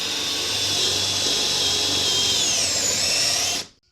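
Power drill or driver boring a hole into wood with a drill bit, a loud continuous high whine that holds steady for about three and a half seconds, then stops abruptly.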